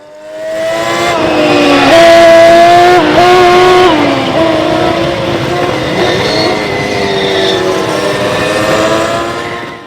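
A race car built from a cheap junker roars past during a race, its loud engine revving and rising in pitch, then holding a strong steady drone as it moves on.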